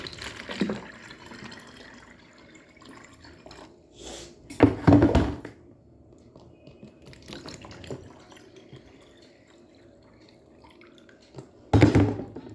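Water falling into a container indoors, a faint steady trickle with sharper splashing bursts near the start, in the middle and at the end.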